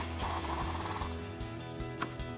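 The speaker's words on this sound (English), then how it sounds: "take an 18mm socket to tighten down our upper shock bolt" On a Jeep Gladiator JT, an 18mm socket on a ratchet wrench tightens the upper shock bolt, giving rapid clicking pawl ratchets close up over a low steady background hum.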